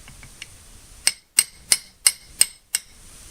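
A hammer strikes a steel vise jaw during a vise restoration: a few faint light taps, then six sharp, ringing metallic hits spaced about a third of a second apart, close and alone.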